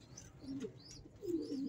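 Pigeons cooing in a breeder's loft, two soft low rolling coos close by, with faint chirps and rustle in the background.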